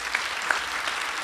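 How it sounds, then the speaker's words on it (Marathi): An audience at a commemorative music programme for P. L. Deshpande bursts into steady applause, a dense wash of many hands clapping at once, filling the brief moment without any talk. "या सगळ्यांसाठी एकदा जोरदार टाळ्या झाल्या पाहिजेत"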